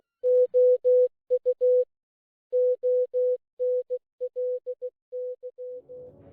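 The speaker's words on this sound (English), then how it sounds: "Morse code can be heard in the" Morse code tones beep in clean short and long pulses, grouped with brief pauses between letters, a steady pure pitch playing alone from a game's background audio, ending in a faint low rumble.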